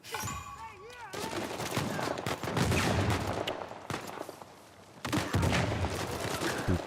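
Rapid bursts of gunfire in the Uncharted 4: A Thief's End video game, with dense volleys that pause briefly and then resume, loud and continuous across several seconds.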